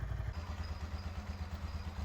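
A Ducati 916 SP motorcycle engine idles close by with a lumpy, throbbing beat, its low pulses repeating steadily and loudly over the short stretch.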